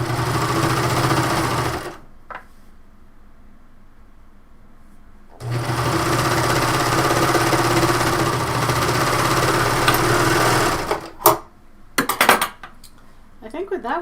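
A serger sewing machine runs loudly in two long bursts of steady whirring, separated by a brief pause, followed by a few short clattering handling noises near the end.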